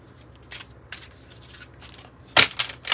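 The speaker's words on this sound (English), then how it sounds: "So give it a really good shuffle" Close, crisp riffling of tarot cards in short bursts, a few light flicks then a louder shuffle near the end, with no talking.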